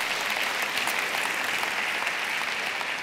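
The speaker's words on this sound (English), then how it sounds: "I don't know why you're applauding." An audience applauding at a school district faculty back-to-school celebration, steady dense clapping filling the whole stretch at a constant level, with no voices rising above it.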